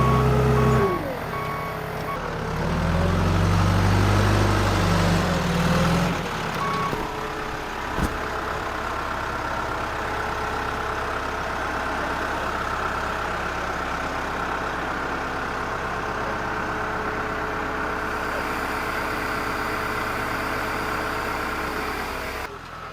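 A farm truck engine revs and drives a short way with a low, throaty rumble, then settles into a long steady idle, moderately close, with a faint clunk partway through.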